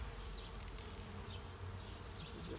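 Honeybees buzz in a dense, steady drone during a midsummer hive check, with individual bees zipping past up close over the constant hum of the colony.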